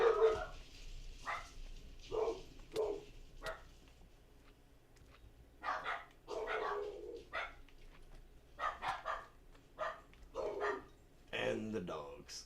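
Dogs bark in scattered bursts through the background, some sharp yips and some longer runs, mostly moderately distant, with a person talking over them at intervals.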